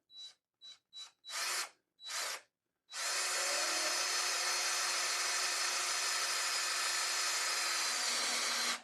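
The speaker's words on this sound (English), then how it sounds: "you heard how the drill made some resistance" A few short drill bursts, then a steady, loud whirring drill running continuously with a strained, grinding tone as it turns an engine's oil pump drive to prime the oiling system.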